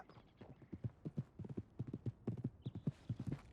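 Horse hooves clip-clopping in the video game Red Dead Redemption 2, a quick, steady rhythm of soft hoof strikes at a trotting pace, fairly quiet and alone.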